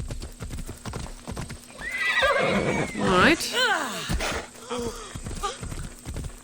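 A horse in Assassin's Creed Odyssey clip-clops over rocky ground, then gives a loud, wavering whinny, followed by a snort, while someone talks intermittently over the hoofbeats.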